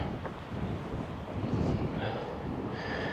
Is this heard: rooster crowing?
no